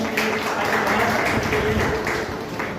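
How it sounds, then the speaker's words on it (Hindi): An audience claps in a dense, steady wash of applause that holds for several seconds at fairly close range, easing slightly toward the end. "एक बार जोरदार तालियां।"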